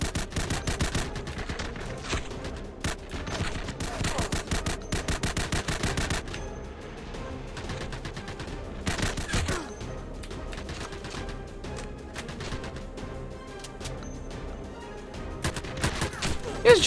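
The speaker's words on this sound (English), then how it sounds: "He's just shooting me." Steady bursts of automatic gunfire in E.T. Armies, a futuristic shooter game, crackle in rapid repeated volleys with brief pauses, dense and continuous at moderate loudness throughout.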